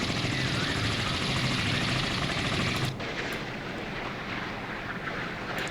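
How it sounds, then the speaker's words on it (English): Helicopter rotor chop from a naval combat game, loud and steady throughout, dropping somewhat in level midway but continuing as a continuous whirring drone. "So we got the helicopter out that way."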